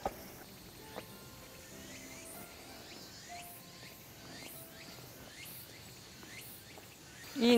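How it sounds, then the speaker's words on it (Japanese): Cicadas drone steadily in the woods around a hillside shrine at a Japanese hot-spring town, a faint layered buzz with repeating chirped calls mixed in, heard alone with no talk. "いいね、このセミの鳴き声が。"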